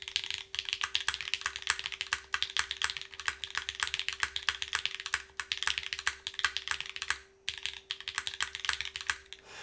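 Rapid, continuous typing on an NRD OKU custom mechanical keyboard, close and crisp clacking keystrokes in quick bursts with a few brief pauses, a faint steady electrical hum underneath.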